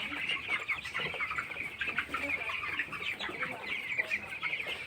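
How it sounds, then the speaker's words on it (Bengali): Broiler chickens about two weeks old cluck and chatter steadily while they eat vaccine, a busy flock at close range with soft overlapping calls. "ওই দেখুন খাচ্ছে ভ্যাকসিন, কত সুন্দরভাবে খাচ্ছে ব্রয়লার মুরগিগুলো"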